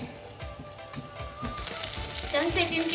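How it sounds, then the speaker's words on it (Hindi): Chopped green chili and cumin fry in hot oil in a pan, giving a steady close sizzle that grows louder and brighter partway through. "यहाँ पर दोनों चीज़ें मैंने अच्छे से फ्राई की हैं"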